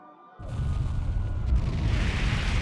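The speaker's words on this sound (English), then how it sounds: "Sounds like screaming. And cannon fire." Deep booming cannon fire in the video game Ys X Nordics hits after a quiet moment, a sudden heavy blast that rolls into sustained loud rumbling and crackle.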